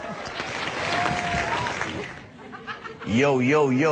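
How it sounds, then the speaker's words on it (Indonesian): Crowd applause with some chuckling rises at a stand-up comedy battle show for a comedian taking the mic, a broad clatter lasting about two seconds before a loud voice speaks over the quieting room. "tepuk tangan semuanya yuk"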